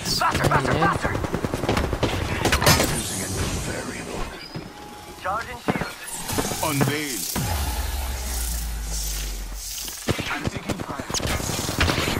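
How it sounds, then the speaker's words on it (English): Video game gunfire rattles in rapid bursts over loud game sounds, with a low rumbling stretch in the middle and a player talking over much of it. "Getting shot at. I'm taking fire."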